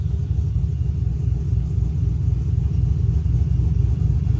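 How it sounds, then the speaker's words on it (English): A car engine with a small cam tuned for mild chop idles close by, a loud, steady low rumble with an even, lightly lumpy pulse and no talking. "That's a pretty good balance between being too choppy and a natural sounding cam."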